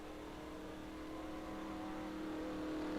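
A race car from a Renegade Pro Cup event at Nashville drones steadily on a victory lap, its engine tone holding even and then swelling louder near the end, with no voices over it.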